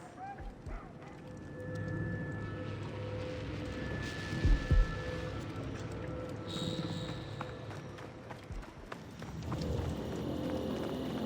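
Horse hooves galloping in Assassin's Creed Origins, a steady clip-clop rhythm running under background game sounds and music, with a few louder thuds midway.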